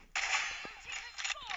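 A single sharp gunshot cracks in a first-person shooter video game's 1v1 match against a streamer, followed by a noisy, hissing tail of game sound with faint clicks.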